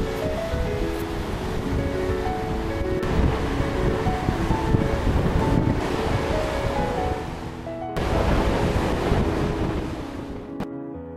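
Ocean waves wash in continuously at a South Coast beach on Kangaroo Island, with broad rushing surf and wind buffeting the microphone, one brief lull before the next wave surges back.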